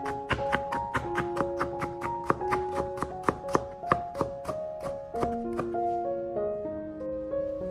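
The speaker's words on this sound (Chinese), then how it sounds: "再切成姜丝" A kitchen knife chops thin slices of fresh ginger into fine shreds on a cutting board, with a steady run of quick, crisp chops over background music.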